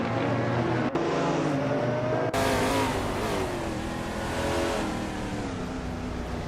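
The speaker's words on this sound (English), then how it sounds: "Strutting Jarl is driving a 2017 Norma M30" In a racing video game, a 2017 Norma M30 LMP3 race car engine revs hard and shifts through gears, loud and close, with other cars roaring in the pack and no talking.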